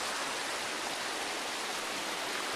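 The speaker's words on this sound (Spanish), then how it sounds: "Ahora, el río está bien chido" Steady broadband rush of a flowing river, a continuous even wash of water with no breaks, fairly close and alone without voices.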